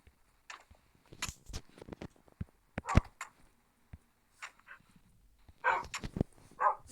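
Dogs in a city-building video game let out short, scattered barks and yelps at close range, separated by silent gaps, with a denser cluster near the end.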